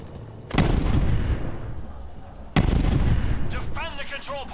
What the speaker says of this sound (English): I should be able to switch to the minigun as well